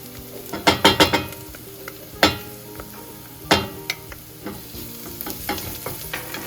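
Onions and garlic sauté in a pan for game-day snacks, stirred with clattering scrapes and knocks of a utensil against the pan over a light, intermittent sizzle, up close.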